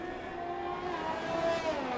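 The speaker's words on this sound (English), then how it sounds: "Over revving the engine like a madman too." A racing car engine in an F1 video game howls at high revs. It is a sustained, rising whine with a smooth pitch that climbs across the two seconds at moderate loudness, and no voice is heard.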